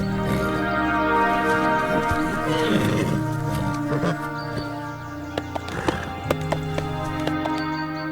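A wild horse gallops and neighs in an animated scene: loud whinnies rise over a steady musical backdrop, followed by a series of sharp hoof thuds near the end.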